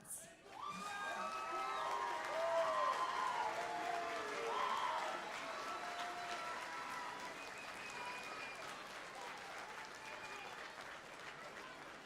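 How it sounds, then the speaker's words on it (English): Graduates at a College of Law graduation ceremony applauding their families, a large hall full of clapping with cheers and whoops rising over it, loudest early and easing gradually while remaining steady. "turn to your support system, and give them a round of applause"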